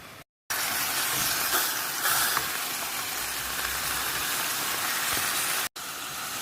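Chicken frying in hot oil over high heat for adobo, a steady loud sizzle and hiss with faint crackles, briefly cut to silence near the start and end.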